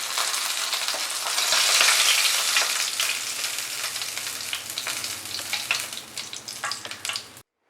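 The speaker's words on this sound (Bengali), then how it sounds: "উল্টে পাল্টে মাছগুলোকে কিন্তু ভালো করে ভেজে নেব।" Tilapia fish frying in oil in a pan, a loud continuous sizzle and crackle that swells early, then breaks into sharper spatters and pops before stopping abruptly.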